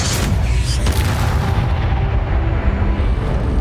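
The Bombarda spell in Hogwarts Legacy detonating, a loud, sustained booming explosion with heavy low rumble that fills the scene and then slowly tails off.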